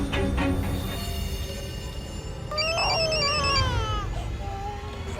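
Phone ringing tone on a call dialed to a number, a repeating electronic ring pattern heard over a steady background hum, with a short burst of tones in the middle and no talk.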